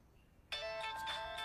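A phone ringtone starts abruptly after a moment of quiet, a bright electronic melody ringing steadily and fairly loud.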